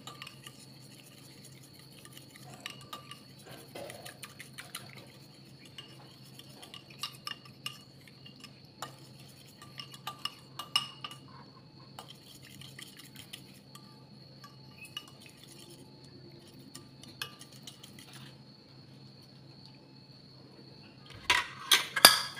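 A spoon stirring a yeast mixture in a bowl for eggless donuts, making light, scattered clinks and scrapes of utensil against the container over a quiet background, with a louder cluster of clatter at the end.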